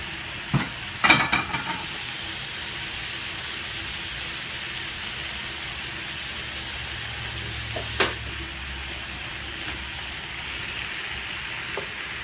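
A burger fries in a pan with a steady, soft sizzle throughout, broken by a few clanks and scrapes of a utensil near the start and once midway, no talk.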